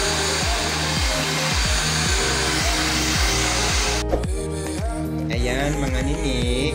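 A blower dries hair in a salon with a loud, steady, close roar of rushing air throughout. The tone shifts partway through as the dryer moves, and no one talks.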